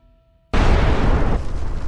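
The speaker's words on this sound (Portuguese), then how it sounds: "uma explosão superpoderosa faz o solo tremer" Meteorite striking the ground in a massive explosion: a sudden loud blast that breaks out of near silence and rolls on as a sustained, deep, rumbling roar.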